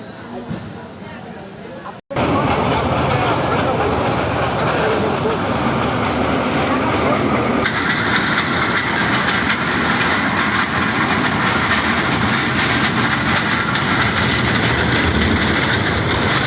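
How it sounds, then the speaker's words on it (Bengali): A train passes at night near Madanpur, Netrokona, with a loud continuous rumble of engine and wagons that starts abruptly and holds steady, while people wait nearby to watch. "ট্রেন দেখতে অনেক লোক দাঁড়ানো আছে।"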